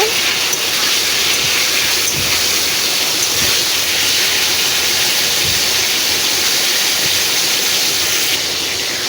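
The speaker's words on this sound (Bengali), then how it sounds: "নুন দিয়ে একবার আলুটাকে নেড়ে নেব।" Potatoes sizzle in a hot pan as they are stirred with salt, a steady close hiss of frying that runs the whole time with soft scraping under it.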